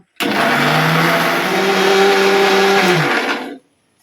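A kitchen blender grinds banana into a drink, a loud, steady motor whir running without a break for about three and a half seconds before cutting off, with no voices over it.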